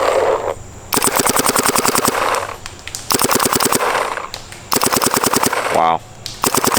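Planet Eclipse Geo R5 paintball marker fitted with a Twister Vortex bolt and brass SFR, firing rapid ramping bursts of sharp pops in three long strings with short pauses, loud and close.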